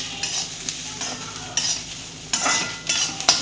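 Grated coconut being roasted with onion in an oily pan for a spicy bitter gourd dish, with repeated close, loud spoon scrapes and stirs over a steady sizzle.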